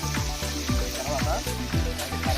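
Mutton and ginger paste sizzle in hot oil in a pan, a steady, close frying hiss with rhythmic stirring scrapes repeating about every third of a second.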